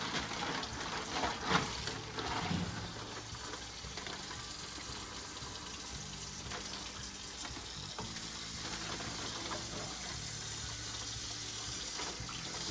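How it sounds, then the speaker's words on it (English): Steady running water pours continuously for several seconds into a bag holding a brined beef brisket, with a soft hiss, close by and without any talking. "I'm going to go ahead and put it back in the bag with some clean water."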